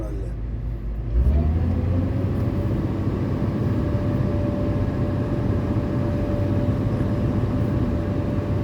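Komatsu PC200-8 excavator diesel engine starting up and then running at a steady, loud idle, heard from inside the cab, a low rumble with a faint steady whine throughout.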